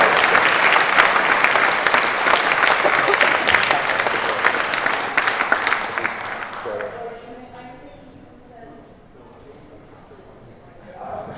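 Awards ceremony audience applauds for roughly seven seconds, many hands clapping in a thick, steady burst that dies away, after which a voice speaks over quiet room tone.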